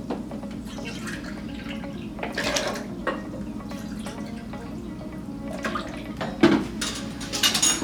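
About 3.5 cups of water pour in intermittent splashy bursts into a blender already holding almonds for homemade almond milk, faint and close in a home kitchen, with dripping and small clinks in between.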